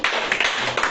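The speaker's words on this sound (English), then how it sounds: "I think you will clap for us." An audience claps at a live farm event in Apo Village, Waru, Abuja, Nigeria, giving a dense, steady patter of many hands, loud and close, with no pause.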